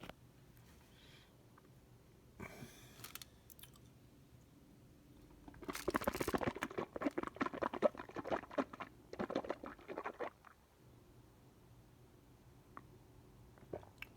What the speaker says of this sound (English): you heard me swirling my water in the mouth